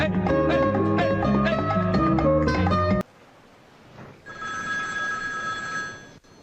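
A ringing musical ringtone plays for about three seconds, stops abruptly, and is followed by quiet room noise and a steady electronic tone.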